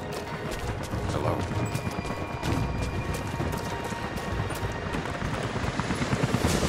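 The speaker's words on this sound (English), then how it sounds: "helicopters are headed your way." A steady, rumbling wash of noise with dense low-frequency pulsing as helicopters approach in the video game Rise of the Tomb Raider, continuing loudly throughout with scattered sharp cracks.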